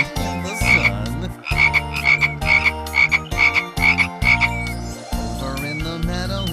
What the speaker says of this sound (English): So they croaked and they croaked in the sand, in the sun.